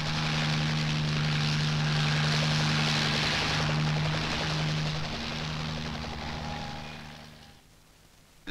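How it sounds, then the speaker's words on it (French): A Sikorsky helicopter's droning rotor and engine hum with a steady low tone holds for several seconds, then fades away into quiet. "Les blessés sont évacués au moyen d'hélicoptères Sikorsky."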